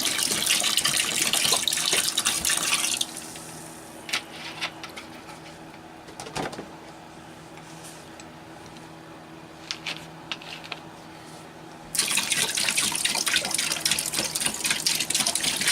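Stored thunderstorm rainwater pours into a container in a loud, rushing gush at the start, stops, then gushes again near the end, with quieter clinks and handling in between.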